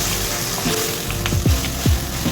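A dish stirred in a pan after shrimp broth is added, a loud steady sizzle of cooking with a few soft scrapes and knocks from the spoon close by.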